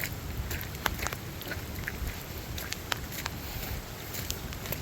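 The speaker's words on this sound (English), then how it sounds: "It's fucking raining." Rain falling on a gravel driveway with potholes, a soft continuous patter with scattered sharper drops, faint and steady throughout with no talk.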